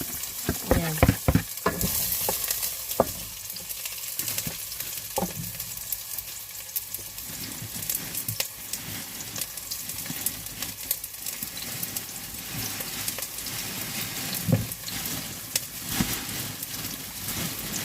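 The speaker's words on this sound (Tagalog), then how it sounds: "Igisa natin ang bawang." Continuous sizzling of garlic sautéing in a pan, with a few sharp clinks and scrapes of stirring early on, close and steady throughout.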